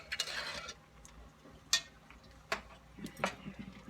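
A spoon stirs a shrimp and grits mixture in a pot, producing quiet, scattered clinks and scrapes against the metal at irregular intervals.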